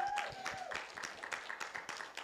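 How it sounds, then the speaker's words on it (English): A congregation claps in unison during a church service, with dense repeated hand claps at close range filling the short stretch and a faint tone in the background. "Let's all give them a hand clap."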